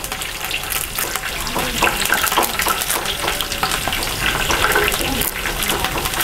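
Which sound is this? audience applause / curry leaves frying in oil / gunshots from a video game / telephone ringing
curry leaves frying in oil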